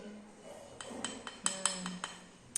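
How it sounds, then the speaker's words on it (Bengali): A metal spoon clinks against a pot of curry as turmeric is stirred in, giving a run of light, quick taps and scrapes that grow a little denser toward the end, faint and close with no talking. "চামচ দিয়ে দাও দিয়ে দাও হলুদটা এবার নাড়া দাও হলুদ দিয়ে"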